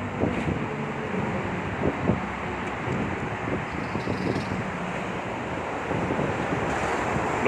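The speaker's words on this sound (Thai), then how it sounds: "ลมเย็น" Cool wind gusts past an open vehicle, buffeting the microphone in a steady broadband rush with low rumbling swells and no voices.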